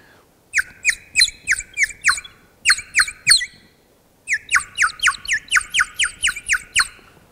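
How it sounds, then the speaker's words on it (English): A water-filled bird whistle warbles in quick chirping trills, a run of about six, a short trio, then a longer burst of rapid, bright chirps. "now that begins to sound like a bird, doesn't it?"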